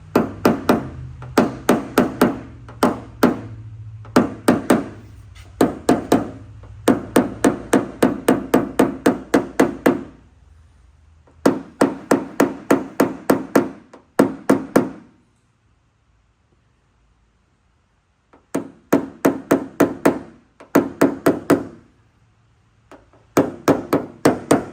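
A paintless dent repair blending hammer taps a dent on a damaged tow truck body panel, striking in quick, loud, metallic bursts of rapid blows, separated by short pauses and one longer silence.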